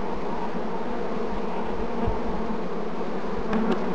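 Honey bees buzz steadily inside a sample jar during varroa mite sampling, a dense close hum with no break and no talk.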